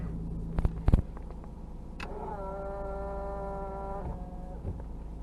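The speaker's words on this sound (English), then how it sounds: "Show you mirrors work. They are power folding." The power folding side mirrors of a 1995 Nissan Skyline GTS4 run with a steady electric motor whine lasting about two seconds, preceded by a couple of sharp clicks.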